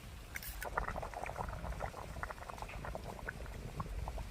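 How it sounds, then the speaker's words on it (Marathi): Potato curry gravy simmers in a pot with soft, continuous bubbling and irregular little pops and plops, heard quietly and close up with no talking. "तर हा एसूर आपल्याला असा उकळत्या रश्श्यामध्ये सोडायचा आहे."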